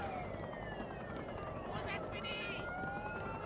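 Wailing police-style sirens in The Incredibles PS2 video game, several overlapping sweeping tones sounding continuously over a busy, noisy game background.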